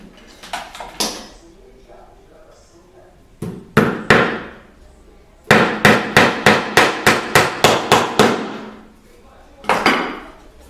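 A hammer drives nails while a wall niche is built with glue and nails, with loud close strikes in short clusters: a few blows, a pause, then a steady run of about a dozen evenly spaced hits.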